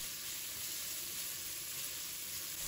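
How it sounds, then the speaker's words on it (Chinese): Minced chicken breast stir-fries in a wok over low heat, a smooth continuous sizzle heard close up and alone, steady in level throughout. "再把鸡胸肉倒入锅中，然后转小火翻炒，把肉末炒散"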